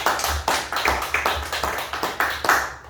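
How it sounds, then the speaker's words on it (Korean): A church congregation claps together in a steady rhythmic beat, roughly four to five claps per second, each sharp and close, forming an even pulse that runs throughout the clip. "우리 박수 한번 쳐주시기 바랍니다."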